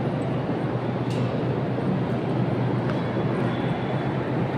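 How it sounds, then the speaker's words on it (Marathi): Delhi metro train pulling into a station, a steady broadband rumble and whoosh held throughout with a few faint clicks and squeals over it. "तर गाईज आमची मेट्रो आलेली आहे."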